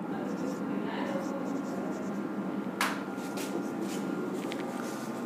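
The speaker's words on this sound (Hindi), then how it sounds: "यहां पर लिखेंगे" Chalk or marker writing on a board during a Hindi-language lesson on area by integration, a faint steady scratching that runs under continuous room noise, with a brief sharper scrape about midway.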